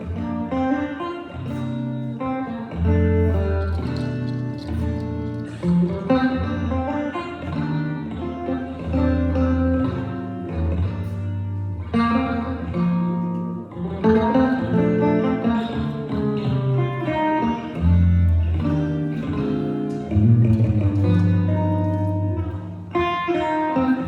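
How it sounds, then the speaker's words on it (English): Continuous full-band instrumental music with rich plucked-string harmonics throughout, loud and steady, with no talking. "this is the sound of the guitar, the modern day chordophone"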